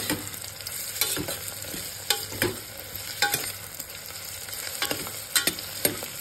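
Mushrooms fried with masala in a pan for a mushroom pulao are stirred with a spatula, giving a soft steady sizzle broken by sharp irregular scraping knocks against the pan, close up with no talk.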